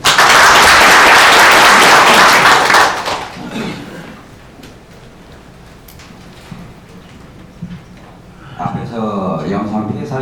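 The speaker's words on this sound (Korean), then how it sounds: "우선 박수부터" An audience at a public hearing on chartered bus improvements bursts into loud applause for about three seconds. The clapping then fades into quieter room noise, and a voice begins speaking near the end.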